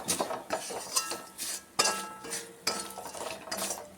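A spoon scrapes and clinks against a pan as fenugreek powder is stirred into beetroot pickle, a series of irregular, fairly faint metallic strokes with short pauses between them.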